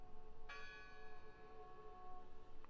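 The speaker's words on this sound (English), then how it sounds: "I heard the bell" A single bell strike rings out in the video game Draugen, clear and resonant with a long, slowly fading ringing tail, heard alone over quiet ambience.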